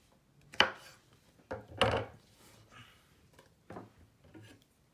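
Knife slicing mushrooms on a cutting board while preparing a raw BARF dog food meal, several distinct close chops spaced a second or so apart, quiet, with no talking.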